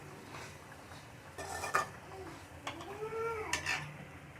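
Chicken filling for a bread roll is mixed in a pan: soft scraping is broken by a few sharp metallic clinks of a spoon, and a brief tonal cry sounds in the quiet background.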